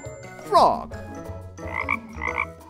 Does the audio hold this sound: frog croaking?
yes